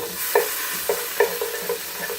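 Chicken, onions and wine get stirred in a hot sizzling pan, with a spoon scraping and clinking in a few irregular strokes over a faint steady fry.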